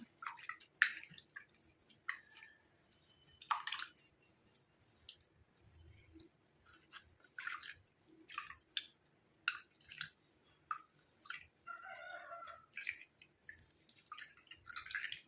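A soaked herbal hair paste is squeezed by hand to press out its juice, giving soft, wet squishes and drips in irregular bursts against a quiet background.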